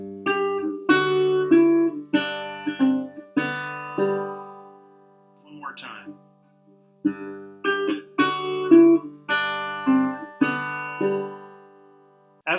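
Acoustic guitar fingerpicked slowly, playing the opening measure of the folk piece Lemonade: clear plucked melody notes over bass strings in a relaxed, unhurried rhythm with a short pause midway, close and alone.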